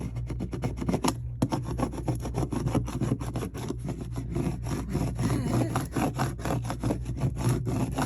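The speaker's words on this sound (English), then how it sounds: "Just give it a good scrape." A scraper dragged firmly over a Cricut craft project for a shadow box, giving a steady, continuous rasping scrape with rapid repeated strokes, close and fairly loud, with no talking.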